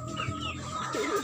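Several chickens cluck in short, busy bursts on a farm, close and fairly steady over a low background, with no talk over them.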